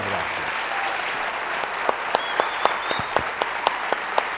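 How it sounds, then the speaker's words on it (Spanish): A seated audience at a culture and communication talk applauds in a dense, even wash of clapping, with a few sharper individual claps standing out near the end. "El aplauso para Víctor Hugo, para Osvaldo."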